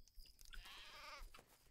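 A single wavering sheep bleat from the video game Craft the World, a quiet drawn-out call lasting about half a second and standing alone.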